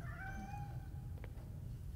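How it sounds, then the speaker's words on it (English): A cat meows in the video game Gotham Knights, one clear drawn-out meow over a steady low background hum, fairly quiet and with no talking. "Is that a cat?"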